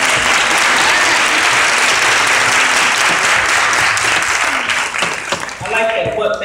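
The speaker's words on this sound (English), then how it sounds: "We have some guest conductors that we'd like to ask to stand and for you to give them applause." Congregation applauding guest conductors at a church Advent vespers service, loud sustained clapping that thins toward the end as voices talk over it.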